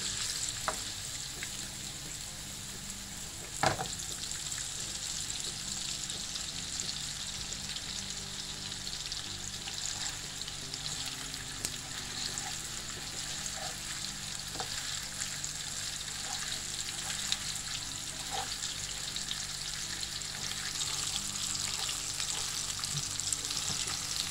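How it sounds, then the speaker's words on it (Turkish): Steady, dense sizzling of meatballs frying in hot oil in a pan, close by, with occasional light clinks of a utensil turning them. "böyle çevire çevire bütün her tarafını kızartacağız"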